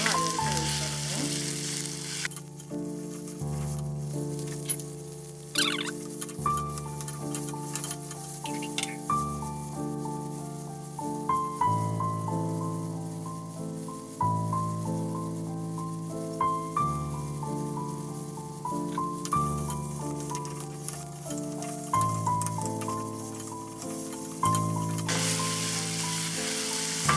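Tomato frying in a pan for a mushroom gravy, a soft continuous sizzle with light patter running underneath prominent melodic background music that carries on throughout.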